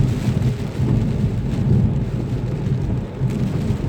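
Heavy rain pours during Hurricane Ian with a deep rumble of thunder underneath, a steady, loud, close roar without speech.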